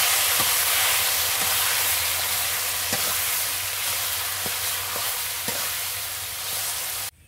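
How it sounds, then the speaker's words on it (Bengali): Leafy greens hit hot oil in a pan with garlic fried until reddish, giving a steady close sizzle throughout with a few soft clinks of stirring, which cuts off abruptly at the end. "রসুনটা নাল হয়ে গেছে, এবার আমি শাকটা দিয়ে দিছি"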